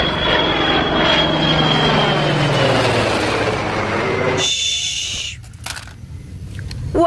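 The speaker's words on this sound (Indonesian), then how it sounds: "sepertinya kita menemukan pesawat militer. Wih, ini juga keren sekali. Ini pesawat Indian Air Force" An Indian Air Force military aircraft's engine drones loudly with a falling whine, sustained for several seconds before cutting off abruptly, then a quieter stretch with faint scattered sounds.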